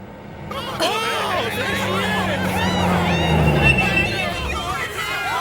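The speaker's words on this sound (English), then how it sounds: "What is this crowd here for?" Dense crowd hubbub at an anime street scene, many overlapping voices murmuring and calling out at close range, steady and loud throughout, with a low vehicle-like rumble underneath.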